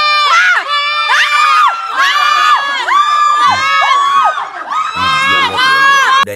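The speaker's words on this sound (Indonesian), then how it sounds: "gue termasuk orang yang jijik denger suara teriakan perempuan begitu ya" Women at a high-society social gathering scream and shriek together in loud, overlapping high-pitched bursts, continuous and close.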